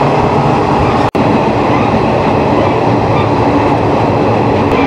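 Shaktipunj Express train running between Durgapur and Raniganj, a steady loud rumble of wheels and carriage noise heard from on board, continuous apart from one sharp momentary dropout.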